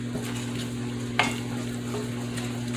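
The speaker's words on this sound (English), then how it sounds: "Just keep stirring and all them little lumps will come out." Flour stirred into melted butter in a pan to make a roux: a soft, steady sizzle with a low hum beneath and one brief utensil scrape in the middle.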